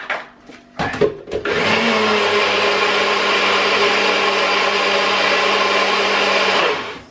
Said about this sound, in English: And I'll probably give that one more blend.